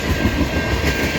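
Norfolk Southern freight train M397 rolling past at close range, a loud continuous rumble of railcars with rhythmic wheel clatter over the rails, with no voices.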